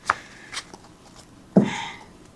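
Riffle shuffling a deck of 350 GSM double-coated paper tarot cards: a brief papery flutter, a softer second burst, then a louder crisp riffle near the end, close to the mic and alone.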